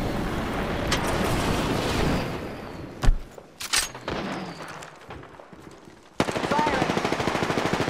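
Rapid bursts of automatic gunfire and a few heavier booms from a video game firefight, loud and close in stretches, with a rattling volley at the end and faint voices now and then.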